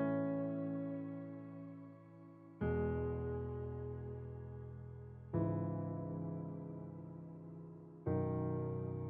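Rich, layered chords from a starter melody built in FL Studio ring out; each chord is struck, sustains and slowly decays, with four chords in an even sequence and no voices.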